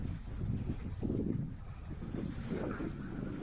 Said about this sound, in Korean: 바람이 너무 불어요. 어, 갑자기 너무 불어.